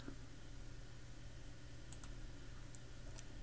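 Quiet, sparse clicks of a computer mouse on a PC, a few isolated taps over a low steady hum.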